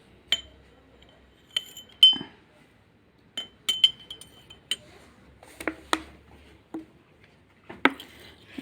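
A metal spoon clinks against a glass of homemade tamarind drink, several sharp separate taps and rattles spread through the clip, close and fairly quiet with no talking.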